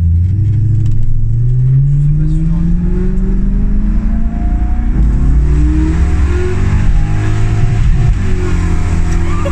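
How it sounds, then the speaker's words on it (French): BMW E30 fitted with a V8 engine revving hard while the clutch slips, loud rising and falling engine roar close by. "L'embrayage il patine."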